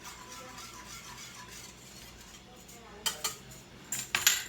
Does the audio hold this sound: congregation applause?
no